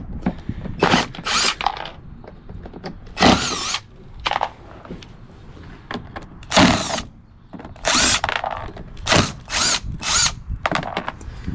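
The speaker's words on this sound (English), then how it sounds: "We'll zip these screws out here a minute." Close, loud bursts of a power drill backing screws out of a ShopVac housing, several separate whirring runs of a second or so each, with short pauses between them and no talking.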